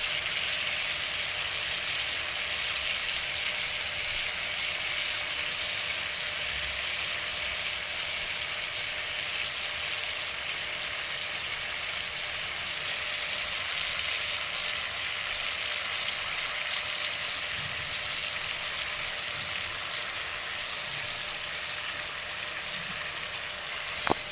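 Bhola fish sautés in hot oil in a pan with coriander leaves, giving a steady, even sizzle and crackle that continues unbroken at moderate volume, with no voices over it.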